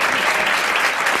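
Studio audience on a 1993 French TV show applauds loudly in a steady, dense burst of clapping heard close and alone.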